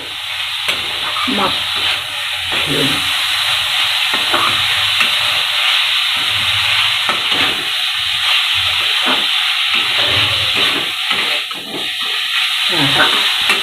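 Mashed pumpkin ghonto cooks in ghee in a pan, a steady loud sizzle and hiss running throughout, with scattered scraping and stirring clicks close by.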